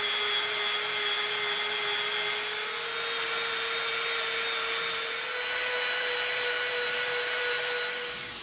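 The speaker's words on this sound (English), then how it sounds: "We beveled from that line to that line, nice and smooth." Steady, loud abrasive grinding or sanding bevels the edge of EVA foam for a Jett knife prop, a continuous whirring drone with a tonal whine and no breaks, close to the source.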